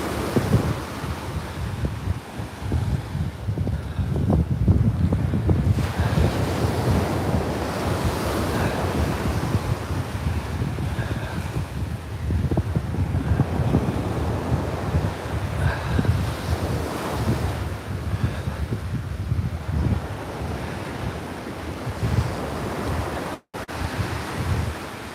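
Surf and gusting wind along Coney Island Beach: steady rushing waves with heavy wind buffeting the microphone, loud and continuous, with no voices.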